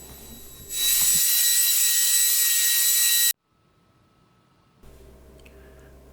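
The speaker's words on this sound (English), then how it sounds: "I picked up one of these Ryobi belt sanders and spent a whole afternoon sanding this thing down flat" A Ryobi belt sander sanding plywood roars loudly for a few seconds, then cuts off, leaving near silence before a low background hum returns.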